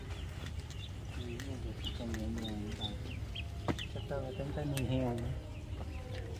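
Ducklings raised at home peep and chirp in a cluster of small, bright calls that rise and fall, mixed with background murmur and a faint voice nearby.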